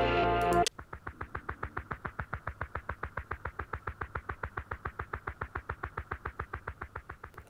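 A short burst of sound cuts off into a rapid, evenly spaced train of repeating echoes from an emulated Korg SDD-3000 digital delay, a rhythmic delay pulsing steadily for several seconds.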